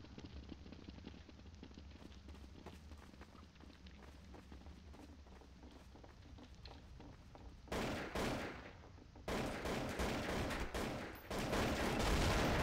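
Grenade blast and gunfire in the video game Counter-Strike: Source, with quiet footsteps and scattered shots first, then louder bursts of fire and explosions in the second half.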